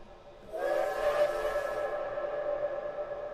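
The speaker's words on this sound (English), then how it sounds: "There's a train whistle" A single long steam train whistle sounds, steady and tonal, with a touch of reverb and a quiet lead-in before it.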